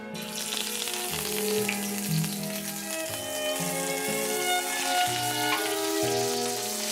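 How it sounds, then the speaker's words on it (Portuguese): Scallops searing in a very hot frying pan, three per person, give off a steady close sizzle for the whole stretch, partly under background music with a low, stepping bass line. "Convém sempre saltear as vieiras numa frigideira bem quente"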